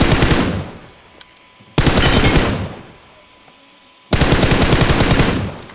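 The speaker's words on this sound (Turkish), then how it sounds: "bak bir ayakta eklentisiz sıkıyorum." Gunfire from PUBG, a gun fired with no attachments in three long, loud, rapid automatic bursts separated by short pauses, with no talking.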